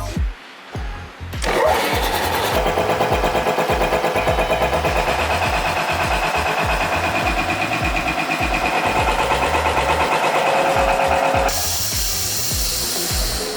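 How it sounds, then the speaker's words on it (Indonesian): A Yamaha Ultima electric motor coupled directly to a Yamaha air compressor runs with a steady, loud, rapid mechanical chugging after a brief start, continuing evenly for about ten seconds before the pitch shifts near the end. "langsung aja kita buktiin nih performa dan kekuatan dari elektromotor ini yang bakal kita koppel langsung dengan kompresor dari Yamaha"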